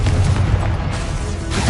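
A Confringo fire spell blasting in Hogwarts Legacy, a loud, dense, rumbling explosion that fills the whole short moment with sustained low boom and crackle.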